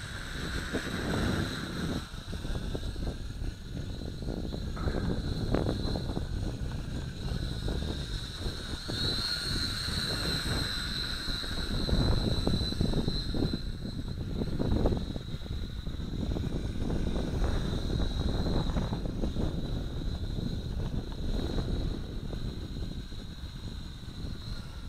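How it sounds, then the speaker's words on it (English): Steady wind gusting outdoors against the microphone while a Syma X5C quadcopter flies, a continuous rushing roar with a faint high rotor whine running throughout. "And it's a good wind blowing here."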